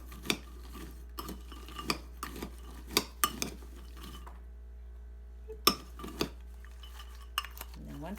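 A spoon stirring a paleo nut mix in a bowl, giving sparse, sharp clinks and scrapes against the bowl in irregular bursts with a quiet pause midway, close and fairly soft over a low steady hum.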